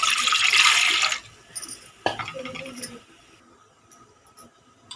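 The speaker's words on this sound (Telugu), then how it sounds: "దాని మీద గిన్నె పెట్టుకొని ఒక లోట వరకు నీళ్ళు పోసుకోండి" Water pours briefly into a pot with a hissing rush for about a second, followed by light clinks and quiet kitchen sounds.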